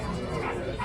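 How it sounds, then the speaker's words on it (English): A little puppy gives a short, soft yip or bark close by, blended with someone talking warmly over it. "Is that a little bitty puppy?"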